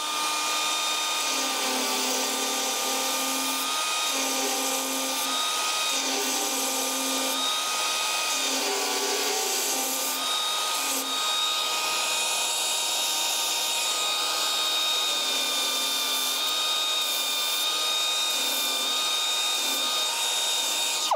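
A Dynafile 2 belt file sander grinding a weld on a car door makes a steady, high-pitched whine that holds for about twenty seconds, its pitch wavering slightly as it works the metal.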